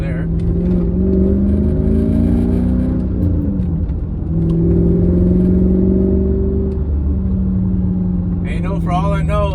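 A Mercedes C55 AMG with a manual gearbox swap rumbles and pulls after a downshift. The deep engine note rises steadily, dips briefly, then climbs again, loud and close inside the car.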